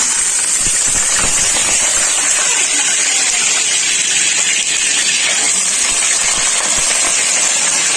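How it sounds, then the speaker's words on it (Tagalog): Loud, steady sizzling hiss of chicken frying in hot oil, with dense crackling spread evenly throughout and no voices. "habang piprito po natin yung ating manok"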